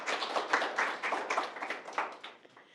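Audience applause at a content design meetup following a talk, a dense patter of many hands clapping at moderate distance, steady for a few seconds and thinning slightly toward the end, with no voices over it.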